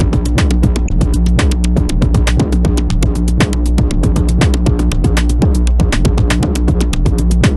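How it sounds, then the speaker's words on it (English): A synthesized drum and bass groove built in Ableton, with steady punchy electronic beats over a sustained, pulsing low bassline that runs continuously and loudly with no talking. "So altogether, our drums and bass sound like this."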